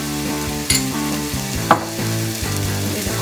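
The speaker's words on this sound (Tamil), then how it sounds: "இது கொஞ்சம் நல்லா வதங்கணும்" Bitter gourd stuffing with cumin sautés in a pan, a steady close sizzle with a few sharp scraping clicks of a spoon against the pan.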